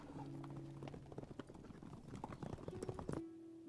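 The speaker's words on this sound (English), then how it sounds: "you hear 6 horses pull up in front" Six horses pulling up, a dense patter of hooves clip-clopping on hard ground at moderate distance, with a steady tonal hum early and late in the passage, no talking.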